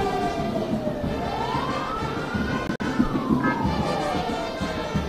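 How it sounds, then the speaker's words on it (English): Siren of a presidential motorcade arriving at Eagle Square for a Nigerian presidential inauguration, a wailing tone sweeping slowly up and down over crowd murmur, with a brief dropout midway. "we can hear the siren conveying the"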